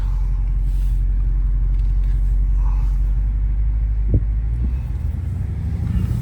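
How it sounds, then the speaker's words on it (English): A BMW M550i on the road, heard from inside as a loud, steady low engine rumble with road noise, a brief thump partway through, and no talking. "we're gonna go for a quick drive and we'll demonstrate how fast this car is."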